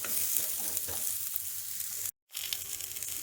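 Eggplant slices frying over a high flame, a dense continuous sizzle and crackle close to the pan, cut by a brief moment of silence before the hiss resumes, with no talking.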